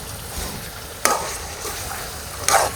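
Mutton frying in ginger garlic paste for korma, a steady bright sizzle with two sharp scraping stirs of a spoon against the pan, close and fairly loud.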